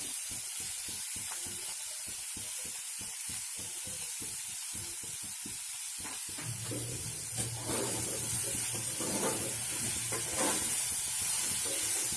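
Potatoes frying in a pan for egg rolls, heard first as choppy bursts of scraping and stirring, then a steadier soft sizzle with a low hum and occasional clinks, fairly quiet and without speech.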